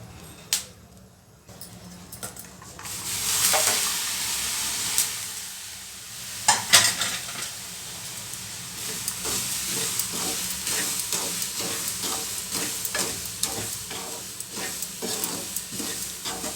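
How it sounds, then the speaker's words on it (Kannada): Peanuts frying in a pan for salted peanuts give a steady close sizzle and hiss, with sharp scraping stirs early on and then a run of small popping crackles at a quick, fairly regular pace. "ಎಲ್ಲ ಪಾಪ್ಕಾರ್ನ್ ಥರ ಸೌಂಡ್ ಮಾಡ್ಕೊಂಡೆಲ್ಲ ಎದ್ದೊಳುತ್ತೆ"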